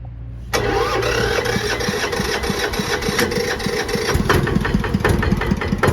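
A KRT-140plus small multipurpose tractor engine cranks and catches after a half second, then settles into a steady, loud, chugging idle close by.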